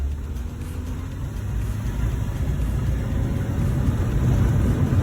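A 1955 Ford Customline carrying a BMW body pulls away, its engine a steady low rumble that grows slightly louder as the car gets moving, with no talk over it.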